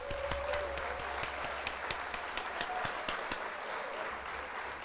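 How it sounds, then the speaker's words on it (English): A canned applause sound effect plays on a livestream, faint and steady, with sharp individual claps standing out over a soft continuous bed of clapping. "We're going to hit the old applause"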